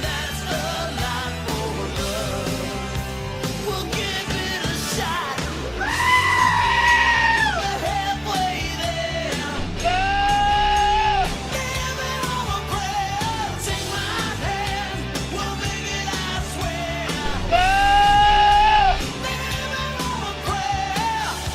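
Goat-like bleats ring out in bursts over a full, steady music track, rising loud three times as a wavering voice cuts above the band.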